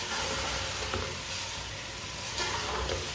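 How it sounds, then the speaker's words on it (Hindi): Fresh chopped spinach sizzles in a hot pan over a fairly high flame while being stirred for aloo palak, a steady frying hiss with soft scraping bumps, no talking. "पालक डाल लेंगे। अच्छी तरह मिक्स कर लेंगे।"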